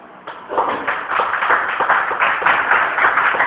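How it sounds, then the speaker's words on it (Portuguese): A church congregation claps their hands together in a steady burst of applause, many palms striking in quick, uneven rhythm for a few seconds at moderate volume. "Podemos assentar e palmas para o Senhor Jesus."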